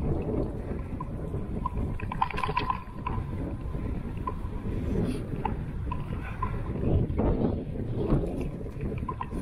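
Wind blowing outdoors in a forest during an April sleet spell, a steady, blustery low rumble that buffets continuously for the whole stretch with no voices.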